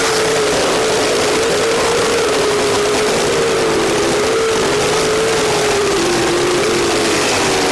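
Race cars roar around the Rush County Speedway bullring during the URSS Nationals, a loud, continuous engine drone with a steady wavering pitch, close and unbroken, with no talking.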